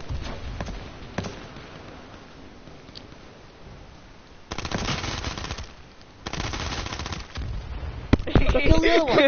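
Gunfire in the online survival shooter H1Z1, with bursts of rapid automatic shots from about four and a half seconds onward, following a quieter stretch, and growing louder and denser toward the end.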